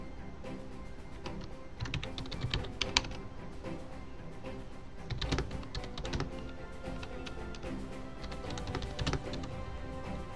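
Fast clattering computer keyboard typing at a desk, steady rapid key taps with a few louder clacks, close and continuous over a busy game soundtrack.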